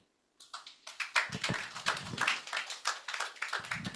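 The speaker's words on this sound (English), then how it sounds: "Please, let's keep the applause going." Audience applause at a quarterly economic discourse: after a moment of silence, clapping starts sparse and quickly grows into steady, moderately loud applause from a room of people, continuing throughout.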